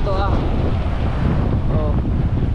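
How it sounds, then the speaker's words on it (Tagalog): Strong wind buffeting the microphone outdoors, a continuous loud rumble and roar throughout, with faint tonal sounds briefly over it. "Pakalakas ang hangin talaga."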